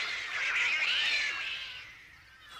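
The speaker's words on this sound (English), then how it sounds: "Cats yelling on a fence." Two cats on a fence yowl and wail at each other, drawn-out rising and falling cries, fairly close and loud.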